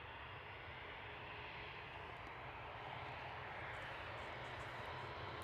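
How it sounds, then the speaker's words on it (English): An easyJet Airbus A320 departs the runway at Manchester Airport, its jet engines giving a continuous distant roar that swells slightly toward the end, with no voices. "Heading off now on 23 left is going to be EasyJet 2109 to Paris Charles de Gaulle"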